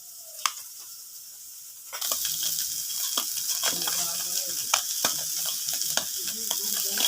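Near silence gives way to a sudden burst of sizzling as taro stolons and garlic hit a hot pan. The frying hiss then runs on steadily, punctuated by sharp scraping clicks from stirring.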